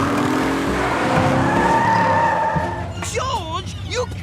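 Cartoon car spinning a donut in the jungle, a loud engine whine with screeching, skidding tires that give way to a voice speaking over fading motor noise.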